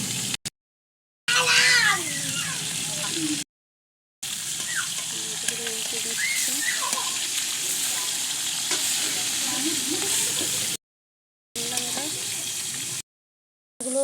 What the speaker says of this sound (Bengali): মাছগুলো একটা করে করে দিচ্ছি ভাজার জন্য